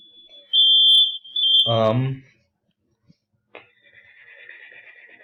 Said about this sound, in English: and my fire alarm's going off.